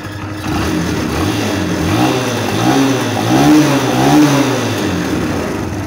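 A Barako motorcycle engine, fitted with a replacement decompression arm, runs steadily and loud, its pitch rising and falling in smooth surges as the throttle is worked, with a rough vibrating drone underneath.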